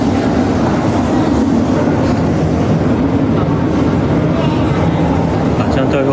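A remote-controlled toy train runs with a dense, rhythmic clickety-clack and rumbling wheels, loud and close, while voices murmur in the background.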